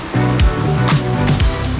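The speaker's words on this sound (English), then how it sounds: "I think this is the tallest waterfall we will have ever seen, and the third tallest waterfall in Oregon" Water pours down at Watson Falls on the Watson Falls Trail, Oregon, one of the state's tallest waterfalls, making a steady loud rushing roar with tonal sounds layered over it throughout.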